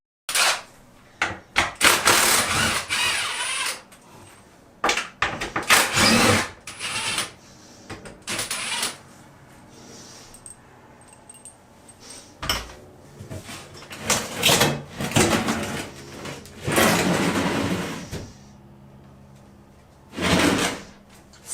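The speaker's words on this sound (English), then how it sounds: "this whole thing should just slide right out" Once two 10 mm bolts are removed, a bathroom fixture scrapes and slides out in several loud, close bursts of grinding and rattling, with quieter pauses between the pulls.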